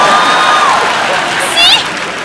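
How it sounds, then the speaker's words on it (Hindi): A studio audience at a comedy talk show claps and cheers in a steady, loud wash of applause, with whistles and shouts cutting through near the end. "अच्छा गुरु ठोको ताली."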